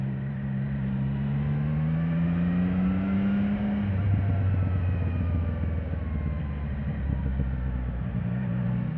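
A CFMoto 675 NK motorcycle engine runs close by with a deep, steady burbling idle, its pitch dipping as the revs drop midway and then holding low and even.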